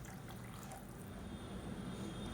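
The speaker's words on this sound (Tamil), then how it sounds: "இப்போ அந்த தண்ணி அப்படியே சேர்த்துக்கலாம்." Hot water pours into a cooking pot for plain kuska rice with jeera samba rice, a steady, faint splashing trickle that runs continuously without any talk.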